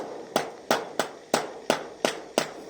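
A hammer drives nails through used wooden boards down toward concrete, seven sharp, evenly spaced strikes about a third of a second apart, loud and close with no talking.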